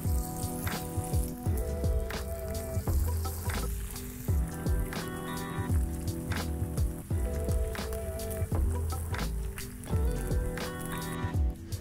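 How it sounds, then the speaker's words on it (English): A batch of Kerala-style Payyoli chicken fry sizzles and crackles in hot oil, loud and close, with irregular pops and stirring scrapes throughout. "Now that we are done frying entire batch of chicken"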